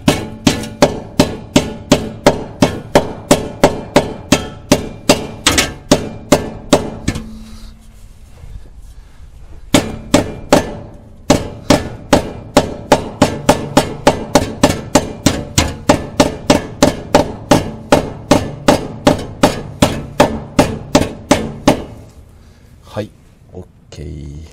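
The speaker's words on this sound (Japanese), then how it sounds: "ハンマーで叩いていきます。" A hammer pounds a warped heat shield plate flat while a Subaru WRX STI VAB is fitted with a CUSCO floor center power brace, striking in a long run of loud, sharp, evenly spaced metallic blows, then a brief pause and more.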